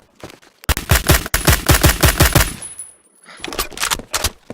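Phantom Forces DMR rifle firing on full auto in the video game: two loud rapid bursts of evenly spaced shots, the first running about two seconds, then a short pause before a second, quieter burst.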